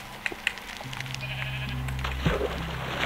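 Sheep bleating in Minecraft on Xbox 360, a drawn-out wavering bleat rising and falling at moderate distance, with a couple of sharp clicks early and a brief extra sound near the end.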